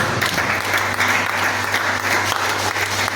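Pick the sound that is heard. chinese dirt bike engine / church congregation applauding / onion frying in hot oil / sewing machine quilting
church congregation applauding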